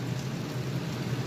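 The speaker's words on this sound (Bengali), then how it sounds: "অবিরাম বৃষ্টি হয়ে চলেছে।" Continuous rain falls in a steady, dense wash of noise with no break or variation, close by and fairly loud, and no voices are heard.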